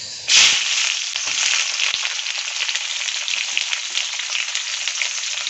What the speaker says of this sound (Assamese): এতিয়া লো ফ্লেম কৰি দিছোঁ যাতে অলপ ভালকৈ ভাজি খায় এইবাৰ দিম মই পিঁয়াজ